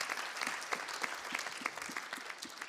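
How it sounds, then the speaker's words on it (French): Sustained applause from an audience at a project launch event, steady and moderately distant, a dense patter of many hands with no voices on top. "On vous applaudit."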